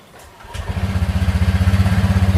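An automatic scooter motorcycle engine starts and settles into a close, loud, steady putter with an even rhythmic pulse, running alone without talk.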